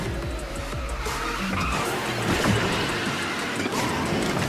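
Kart speed boost in a Toy Story racing video game, a loud continuous engine whine with skidding tire squeal filling the whole stretch, the drive staying steady and dense from start to finish.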